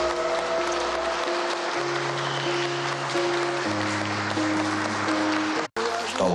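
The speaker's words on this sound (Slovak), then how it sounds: "Prosím o potlesk" Steady applause from a wedding crowd greeting newlyweds, continuous clapping throughout with sustained musical tones underneath and a brief dropout near the end.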